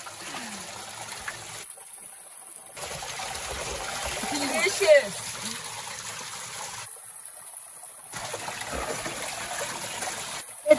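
A canyon stream in Paria Canyon trickles and burbles as water is collected from it, close and continuous, with small splashes. People talk intermittently over it.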